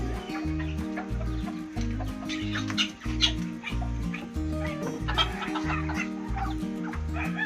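A hen clucks in repeated short bursts close by, a steady rhythmic clucking with a few sharper calls and faint background farmyard noise.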